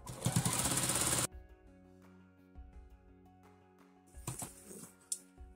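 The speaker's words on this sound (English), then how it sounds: "now we sew the top down." A sewing machine sews down the top of an elastic casing in one rapid, loud, close burst lasting just over a second, followed by quieter handling clicks and rustling.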